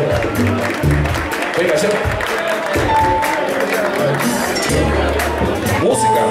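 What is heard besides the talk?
audience applause at a live salsa club concert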